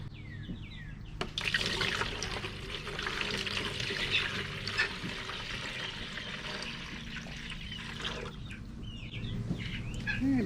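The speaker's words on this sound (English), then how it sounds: "Okay, the cups are filling up with water." Water trickles softly into poultry waterer cups in a backyard chicken setup, a faint continuous dribble with a sharp bump early on and chickens clucking now and then in the background.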